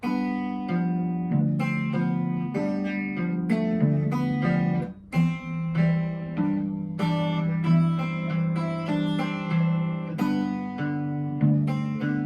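An acoustic guitar plays a slow, plucked fingerstyle passage from Black Mountain Rag, single notes and paired tones, clear and close, with a brief pause midway and no talking.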